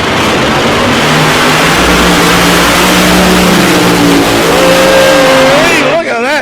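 Drag race car engine roaring loud and continuous as a monster tractor-class car launches down the strip at South Coast Raceway, steady full-throttle blare with rising whine toward the end, crowd and commentary mixed underneath.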